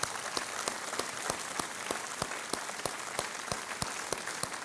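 A studio audience on a televised quiz show claps for a contestant who has just won, a steady crowd applause with sharp, regularly spaced louder claps standing out through the short stretch.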